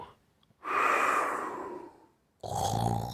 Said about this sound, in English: When the giant was snoring loudly